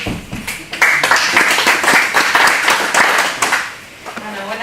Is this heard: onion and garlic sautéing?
no